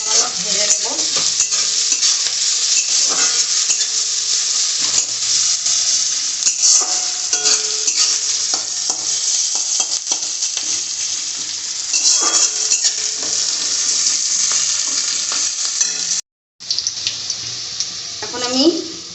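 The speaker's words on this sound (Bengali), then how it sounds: "এটা একটু সামান্য ভেজে নেব" Sliced onion and chopped green chilli fry and are stirred in hot oil, giving a continuous close sizzle broken by repeated scraping strokes, with a brief drop to silence near the end.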